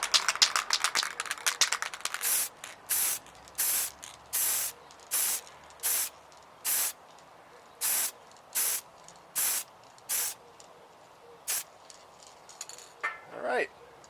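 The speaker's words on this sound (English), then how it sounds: "next we'll go ahead and use the black, and we'll spray this directly upwards" Black spray primer is sprayed upward onto miniature figures: a fast cluster of short hissing bursts, then about a dozen evenly spaced one-second sprays, close and loud with faint rattling between them.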